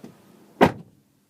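A single solid thump of a car door closing that sets the car shaking, one short dull knock after a faint rustle, near and moderately loud, followed by quiet.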